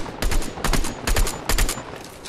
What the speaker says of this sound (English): I might as well just start shooting out his walls.